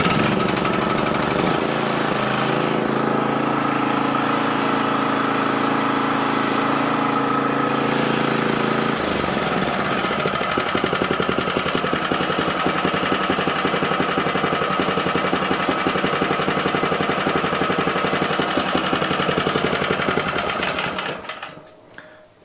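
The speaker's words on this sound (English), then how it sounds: "It runs good on full speed, runs good on idle." A Toro Turf Master lawn mower engine runs continuously up close, a loud buzzing drone that shifts from a higher-speed whine to a lower, choppier idle partway through, then is shut off and dies away.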